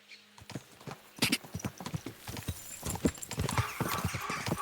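Rapid hoofbeats of horses gallop in a quick, uneven clatter in the video game Kingdom Come: Deliverance II, with occasional snorts and a brief whinny, fairly close and continuous.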